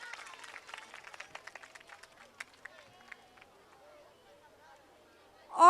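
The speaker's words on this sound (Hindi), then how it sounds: "जोरदार तालियों से स्वागत कीजिए" Audience applauding at a school annual social gathering and prize distribution, a burst of scattered clapping that thins out over several seconds before a sudden loud noise at the very end.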